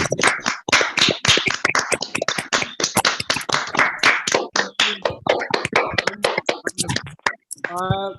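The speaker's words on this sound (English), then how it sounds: "let's have a big round of applause for participants." Participants in an online Covid-era library-services training session clap together, a dense, rapid patter of many hands through a call connection, with voices mixed in and a single speaker at the end.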